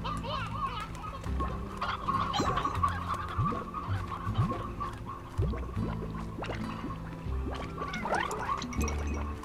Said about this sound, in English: Hey, chicken.